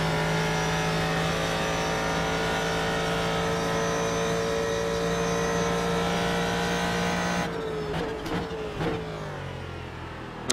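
A Ford GT3 race car in the iRacing game at Road Atlanta holds a loud, steady engine drone, then drops revs with a few quick downshift blips and gear changes near the end.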